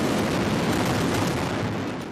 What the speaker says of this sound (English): Huge explosions rupturing the morning quiet across southern Lebanon.